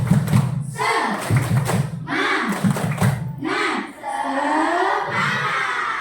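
A school class in Indonesia doing a rhythmic spirit clap, bursts of group clapping and children's chanting voices in a repeating pattern, loud and close in a classroom.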